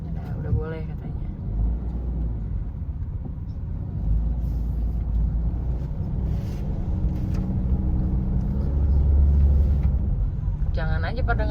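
A car climbs a steep road at the Panyaweuyan terraces in Majalengka. Its engine holds a steady, close, low rumble that swells toward the end, with people talking over it.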